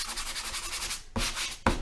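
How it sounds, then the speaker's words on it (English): Sanding block rubbed back and forth over dried wood filler, rapid rhythmic scratchy strokes up close, pausing briefly and then resuming. "all we have to do is take our sanding block and go in there and just sand the excess"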